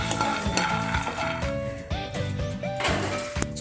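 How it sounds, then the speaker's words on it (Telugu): Peanuts dry-roast in a kadai without oil, rattling and scraping as they are stirred in quick repeated strokes, with soft background music running underneath. "ఇప్పుడు అదే కడాయిలో పల్లీలు వేసి వేయించుకుందాము"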